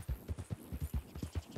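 A horse gallops in a ranch roleplay video game, its hoofbeats a quick, steady run of muffled low thuds at close range, with no speech over them.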